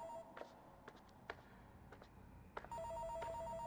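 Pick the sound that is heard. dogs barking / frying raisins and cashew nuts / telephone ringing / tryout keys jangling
telephone ringing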